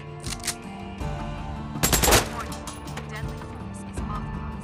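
Gunfire in the video game Days Gone, aimed at loudspeakers, with one loud burst of shots near the middle over a steady game background while voices talk.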